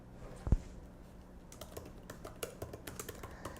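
Typing on a full-size computer keyboard during setup of a knitting pattern app on a MacBook: a rapid run of light, close key clicks with one heavier thump near the start, quiet and without talk.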